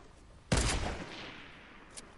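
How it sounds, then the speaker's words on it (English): Gunfire in the video game Booty Blasters, with a shotgun in play: one loud, close blast with a short decaying tail, followed by a much fainter distant pop. "Yeah, I'm shooting back."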